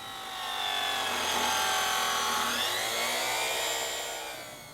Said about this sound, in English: next we will take some 1-inch angle and cut them to match